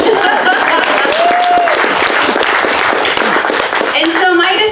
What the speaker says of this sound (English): round of applause for the